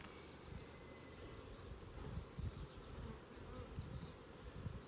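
Honeybees buzz around an open hive during an inspection, a soft, continuous low drone from many bees with individual bees passing close, faint and steady throughout with no talking.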